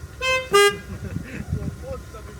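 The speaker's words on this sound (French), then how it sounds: "Le mec qui se réveille, qui klaxonne." Two short car horn toots in quick succession, the second louder and longer, over street traffic with people talking nearby.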